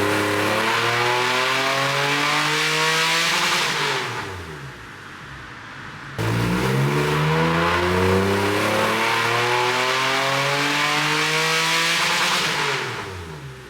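A Porsche 964 with a six-speed swap strapped to a dyno, its engine climbing loudly in two long sweeping revs up to a high roar, each ending in a drop back down, up close with no talk.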